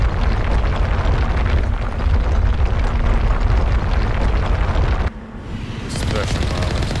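Heavy automatic weapon fire rattles in the Mass Effect video game, a loud, dense, continuous burst of gunfire that cuts off abruptly near the end, leaving a quieter rumble.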